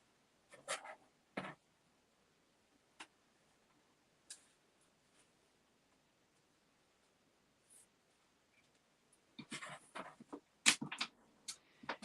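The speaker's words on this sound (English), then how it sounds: "I'm going to just use actually my water-soluble pen here." Quiet, sporadic scratches of a water-soluble marking pen on fabric, a few short strokes spaced apart, then a busier burst of writing and light rustling near the end.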